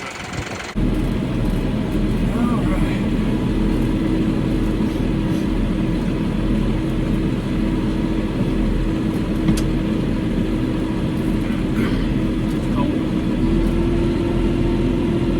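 Tractor engine running steadily as heard from inside a quiet cab, a continuous low droning hum with constant loudness, alone after a brief cutoff at the start.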